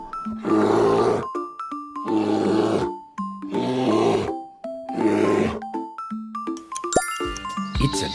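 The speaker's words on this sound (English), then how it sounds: "It's a bear." A bear growls in four loud, deep, rasping bursts, each about a second long and separated by short pauses filled with bright chiming music notes.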